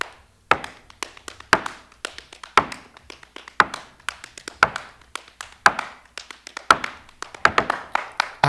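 Crisp percussive tap dance steps ring out in quick syncopated clusters of sharp heel and toe strikes, loud and close, some falling in rapid double and triple beats with short gaps.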